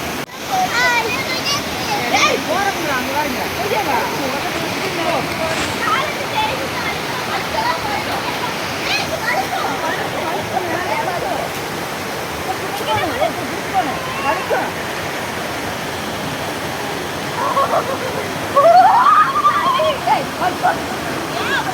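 The Panchalinga waterfall at Thirumoorthy roars steadily while people bathe, splash and play in the water, with children's voices and occasional louder splashes breaking through.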